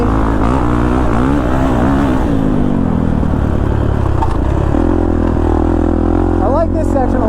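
Kawasaki KX450 dirt bike engine on a motocross track, rider smoothly rolling the throttle, a loud continuous close buzzing drone with rising and falling pitch.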